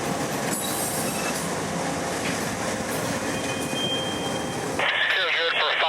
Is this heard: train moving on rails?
yes